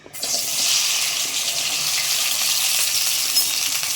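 Okra pieces frying in hot oil for a tamarind curry, a steady, dense sizzle that starts abruptly and holds at an even, close level throughout with no voices.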